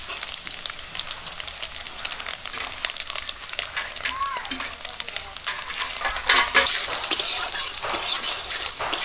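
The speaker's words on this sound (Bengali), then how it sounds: "চিংড়ি মাছগুলো ভাজা হয়ে গেছে" Shrimp fry in hot mustard oil with a close, continuous crackling sizzle, dotted by frequent sharp pops and a few utensil clinks against the pan.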